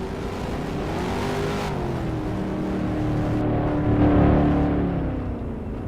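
A modified stock race car at Richmond in a racing video game mod spins through a full circle, its engine droning loud and steady throughout, with the pitch rising and falling as it turns.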